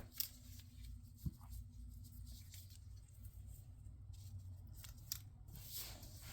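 Paper scissors snip through cardstock for a Stampin' Up card project, giving a few light, close cuts over a soft steady room hum.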